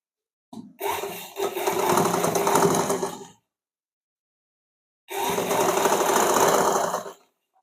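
A sewing machine runs a line of stitching up the front of a blouse in two loud, steady bursts of two to three seconds each, with a short gap of silence between them.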